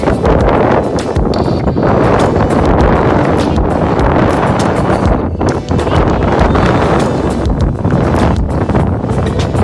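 Strong wind buffets the microphone at a canal landing in the town center of Fulton, New York, a steady loud roar with gusty fluctuations throughout and no talking.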